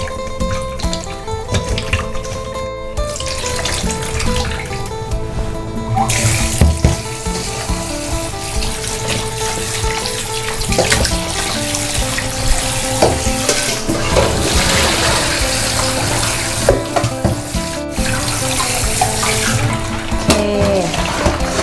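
Rice is washed by hand in water, with loud, close, continuous swishing, sloshing and splashing and the grains rubbing in the bowl, nearly unbroken throughout.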